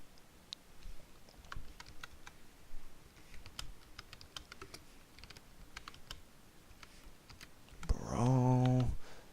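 Someone types on a computer keyboard in short, quiet bursts of key clicks, with a louder, tonal sound briefly rising near the end.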